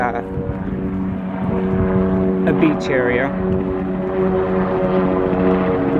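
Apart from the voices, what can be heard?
helicopters flying over a state park beach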